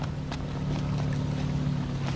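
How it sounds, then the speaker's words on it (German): Magitech engines in the video game Final Fantasy XV, a low steady droning hum with a wind-like rush over it, faint and unbroken, with a few soft knocks. "Noct, ich höre Magitech-Motoren."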